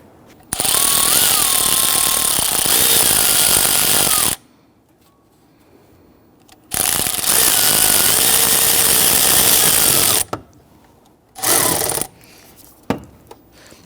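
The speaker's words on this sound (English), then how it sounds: "I'm going to use my 10mm socket, and we're going to secure our air intake tube clamp down below" A power ratchet with a 10mm socket tightens the air intake tube clamp on a 2011-2015 Kia Sorento, giving two long loud whirring bursts of about four seconds each and then a short final burst, very close with quiet gaps between.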